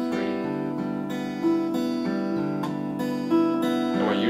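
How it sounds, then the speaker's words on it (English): Guitar fingerpicking pattern in 3/4 time, plucked by thumb and fingers: a steady, flowing run of clear plucked notes ringing into each other, close and even, with no talk. "So we're going to play 4, 3, 2, 1, 2, 3, which is the first section of this new picking pattern."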